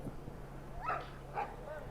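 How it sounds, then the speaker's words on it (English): Police dogs bark and yelp during a violent street protest in Aurora, two short barks around mid-clip over a low steady hum of crowd and traffic noise. "Here come the dogs."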